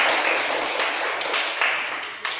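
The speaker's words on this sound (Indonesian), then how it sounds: "Tepuk tangan untuk kelompok A" A classroom of students claps for group A, a steady, dense patter of many hands that fades slightly toward the end.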